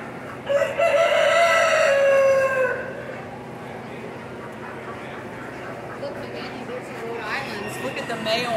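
Roosters crowing in the chicken exhibit at the 2022 Florida State Fair, one loud nearby crow opening the scene, then fainter crows and clucks in the background while people chat throughout.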